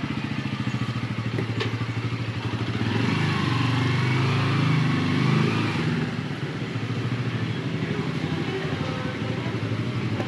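A Bajaj Pulsar N160 motorcycle engine idles steadily nearby with a rough, throbbing putter, briefly growing louder and busier in the middle before settling back.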